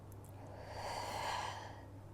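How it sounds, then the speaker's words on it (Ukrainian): One slow, deep breath during a breathing exercise for hernia and posture correction, audible as a soft airy swell that peaks midway and fades, close and fairly quiet with no talking. "Глибокий вдих і на максимум видих. Вдих через ніс."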